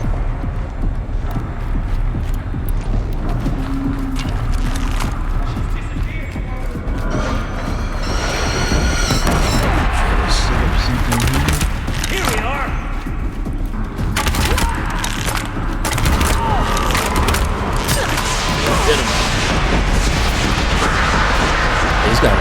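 Gunfire, explosions and crashes from the action video game Horizon Zero Dawn, a loud continuous barrage of cracks and blasts with mechanical clatter and no talk.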